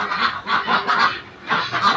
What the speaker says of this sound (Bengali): আর 50-60টা হাঁস আছে, সব সাদা সাদা।